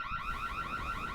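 A hardwired house alarm system blares with a continuous warbling electronic siren, loud and steady throughout, with no voices.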